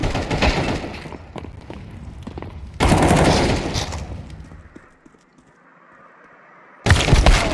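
Rapid bursts of gunfire in the video game Counter-Strike 2: a sustained rattling volley, a second loud burst near the middle that fades away, a brief near-silence, then another sharp burst at the end.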